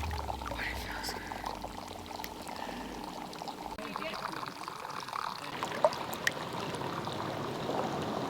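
Hot spring water pours steadily into a pool in a remote wilderness spot, a continuous close splashing wash with a couple of brief sharp splashes near the end, alone without talk.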